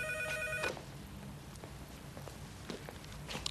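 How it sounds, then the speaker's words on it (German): A telephone rings indoors with a trilling electronic bell in a short burst at the start, then cuts off. Quiet shuffling movement and faint footsteps follow in the room. "Vielleicht ist das ja der ersehnte Anruf."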